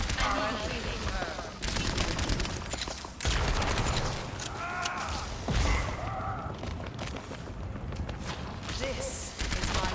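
Dense, rapid gunfire from an Overwatch match, volleys of shots and bursts piling up almost continuously, with a player's voice talking over the clatter.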